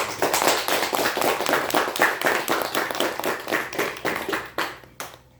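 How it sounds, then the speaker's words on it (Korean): Audience applause at a church testimony talk, a dense burst of hand clapping that rings out for several seconds, loud and close, then thins and stops near the end. "우리 아버님께 감사의 박수 한번."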